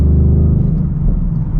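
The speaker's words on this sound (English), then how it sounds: "And just listen to the car. Sounds so nice." A Ford Mustang Bullitt engine rumbles steadily up close, a deep low throb that holds loud and even with slight swells, like a revving motor.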